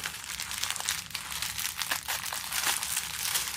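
Crinkly plastic gift packaging around a soft, squishy pink toy is squeezed and handled, giving a steady, close crackling and rustling that continues throughout with small bursts of louder crinkles.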